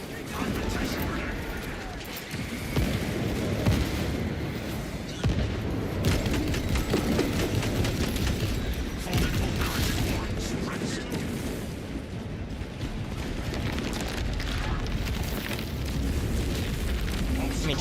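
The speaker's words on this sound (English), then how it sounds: "Fragmentation grenade." A fragmentation grenade and heavy battle noise in a Warhammer game with a Techmarine: sustained booming blasts and crackling gunfire roll on loud and unbroken for many seconds, with voices faintly mixed in.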